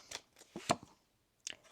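Tarot cards being shuffled by hand: a few short, crisp riffling bursts spaced apart with a pause before the last one, close and quiet, without talk.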